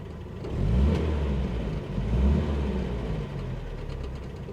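A 1960s Vauxhall Victor FC engine idles quietly, heard from inside the cabin, a low steady rumble with two gentle swells in revs.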